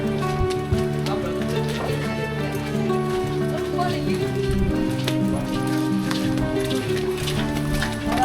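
Monsoon rain falls at Pavagadh hill, a soft steady patter over a sustained humming drone, with occasional voices mixed in.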